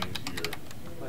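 Several quick keystrokes on a computer keyboard in an office software demo, a rapid burst of light clicks that stops abruptly and leaves a low background hum.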